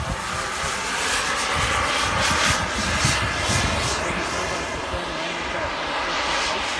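A large model airplane engine holds a steady, loud buzzing drone at part throttle, close by and continuous with a slight wavering pitch, while faint voices sit under it.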